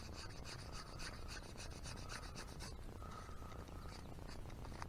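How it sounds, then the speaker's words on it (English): Yucca leaves are scraped to strip the fibers, a continuous close rasping rub with rhythmic strokes that steadies into a smoother scrape partway through, faint overall and with no talk. "You'll scrape this stuff off."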